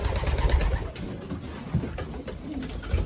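Young racing pigeons coo softly close by, low burbling calls repeating over a faint background hum.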